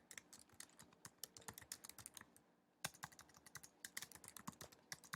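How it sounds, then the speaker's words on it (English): Quick, irregular clicking of keys on a computer keyboard, close up, with one brief pause before the typing resumes. "I'm typing."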